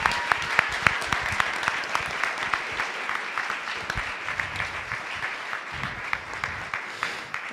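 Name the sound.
board meeting audience applauding a retiree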